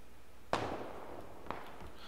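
Two sharp gunshots in a multiplayer shooter, one loud and near with a trailing echo, then a fainter second shot about a second later, over a low steady background.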